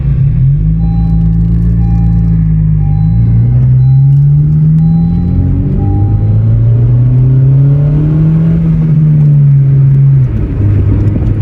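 A lowered 2020 Honda Civic Sport with manual gearbox drives along, its engine loud and close, droning and rising in pitch as it revs through gears with a steady rumble.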